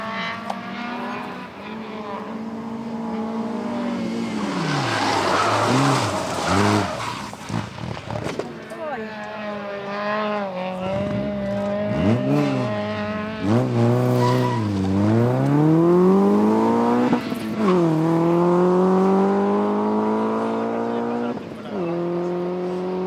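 A rally car on a tight corner at the Rallye de Pontevedra stage in Sanxenxo, its engine revving up and down through the bend with tyres squealing and skidding, loud and near. Someone talks over the engine throughout.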